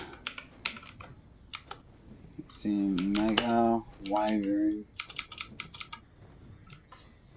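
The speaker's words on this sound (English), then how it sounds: "That's my new keyboard I got for Christmas" A new computer keyboard clicks in quick clattering bursts of typing, close and crisp, stopping while someone speaks briefly and then resuming in scattered runs of keystrokes.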